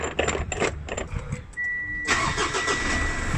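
A pickup truck engine cranks and catches, the starter churning briefly before the engine settles into a steady, loud idle close by, with a faint metallic jingle early on.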